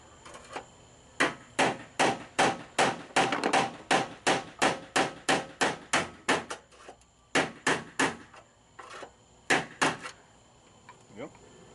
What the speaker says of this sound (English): I'm going to take a chisel and try to give one good pop